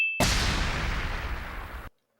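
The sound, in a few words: cartoon explosion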